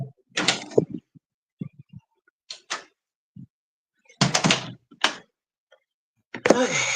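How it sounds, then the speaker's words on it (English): A house door opens with a series of separate clunks, scrapes and clicks, close and spaced unevenly across several seconds, ending in a longer scraping sweep. "She can hear the door kind of open."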